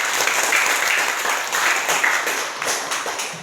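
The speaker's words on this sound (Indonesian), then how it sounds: "mari kita berikan tepuk tangan untuk semua kelompok" A class of students applauds its discussion groups, with steady, dense hand clapping filling a classroom and fading slightly toward the end.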